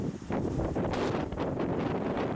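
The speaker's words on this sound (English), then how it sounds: "Just windy here because I'm on a little saddle." Steady wind buffeting a microphone on an exposed mountain saddle on a hiking trail, a loud continuous rushing roar with gusty swells and no voices.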